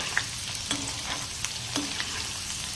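Stuffed okra (bhinda) fries in hot oil with a steady, bright sizzle and a few sharp pops and crackles spaced through it, close and continuous with no voices.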